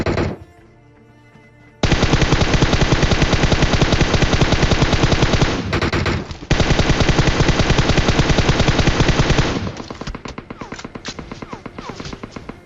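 Rapid automatic gunfire in PUBG Mobile, a loud, dense stream of shots that starts after a short pause, breaks briefly, resumes and then thins into scattered single shots near the end, with no talk over it.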